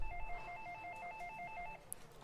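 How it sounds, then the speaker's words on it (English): A telephone rings in a rapid warbling electronic pattern, a short burst of repeated trills that stops after under two seconds, fairly faint and alone. "Oh, you hear that? There's a phone call."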